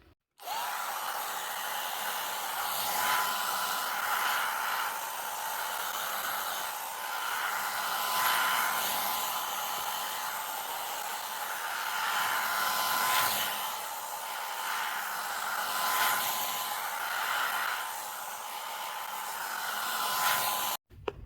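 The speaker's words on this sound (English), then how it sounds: "So I'm just going to turn it on low and blow dry her hair a little bit, speed up the process of drying." A hair dryer set to low blows steadily on a doll's hair, a continuous close whooshing whir that runs unbroken for about twenty seconds with no talking.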